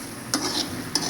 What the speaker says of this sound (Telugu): ఒట్టిగా వేయించాలి ఇట్లనే.